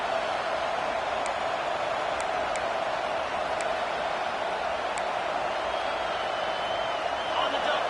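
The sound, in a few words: stadium crowd roaring during a college football game on third down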